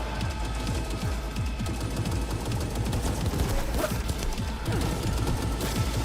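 Dense automatic gunfire in Cyberpunk 2077 Phantom Liberty rattles loudly and continuously, with rapid overlapping bursts and impacts filling the whole stretch and no speech over it.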